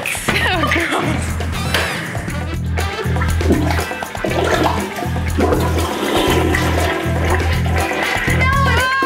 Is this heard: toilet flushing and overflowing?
yes